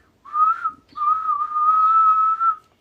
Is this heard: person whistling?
yes